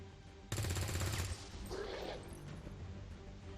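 Soldiers fire weapons in XCOM 2 Long War 2: a sudden burst of rapid automatic gunfire, then a crashing impact that fades into a low background hum, with no talk.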